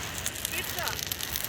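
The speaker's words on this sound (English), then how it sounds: "Rustled the fire up." A campfire crackles at night beside a riverbank fishing camp after rain, with steady close snapping and popping over a hissing background and faint voices.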